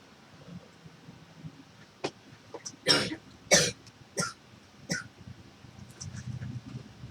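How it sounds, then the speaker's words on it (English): A person coughing repeatedly, a series of sharp, close bursts with a couple of louder harsh coughs in the middle and smaller throat-clearing hacks around them, separated by brief pauses. "You're coughing a lot."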